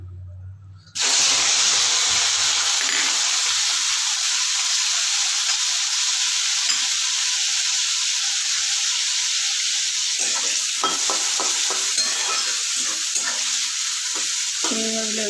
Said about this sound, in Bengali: চিংড়ি মাছগুলো এরকম একটু ভালো করে ভেজে নেবো।